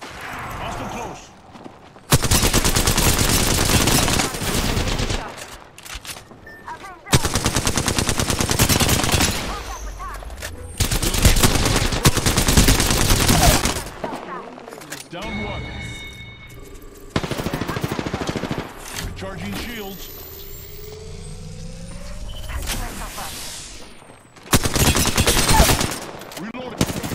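Bursts of automatic gunfire in the video game Apex Legends come in several long, loud volleys separated by quieter gaps, with a player talking in between.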